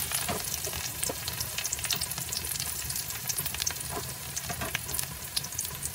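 Onion and a little ginger fry in a pan, with a dense, steady sizzle and crackle and scattered sharp spits and pops throughout. It is close and fairly loud, with no talking.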